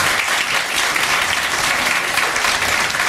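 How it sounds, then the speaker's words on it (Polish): Dense, sustained clapping from a large audience at a cabaret show fills the space evenly, loud and continuous throughout. "Naprawdę, wielkie brawa!"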